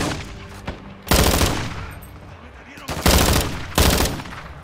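Automatic weapons fire in the Call of Duty: Modern Warfare 2 campaign on PS5 during an army ambush, three loud close bursts of rapid gunshots with quieter rumbling action between them.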